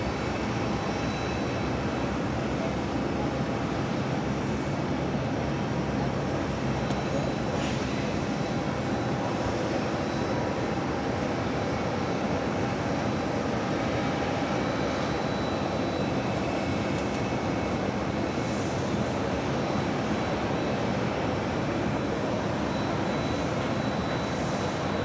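An Airbus A330-800 airliner at JFK airport rumbles as a faint, distant, continuous jet engine roar, with no talk.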